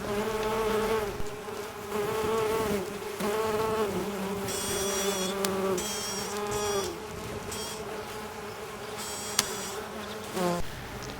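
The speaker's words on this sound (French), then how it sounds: "une abeille va sortir de son cocon" Steady insect buzzing from a mason bee emerging from its cocoon, close and continuous, with a droning hum that rises and falls slightly over the whole stretch.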